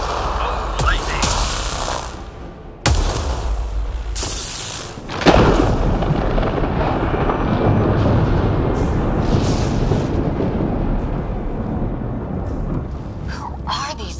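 Thunder from a lightning storm in Mass Effect Andromeda booms and rumbles in several heavy cracks near the start, then a long rolling roar carries on with rain-like noise underneath.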